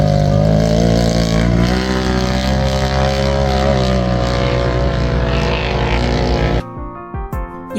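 Engines of quad bikes, 4x4s and dune buggies rumble steadily and loudly on the Moreeb desert dunes near Liwa, a dense continuous drone that cuts off abruptly near the end, followed by a few short bursts.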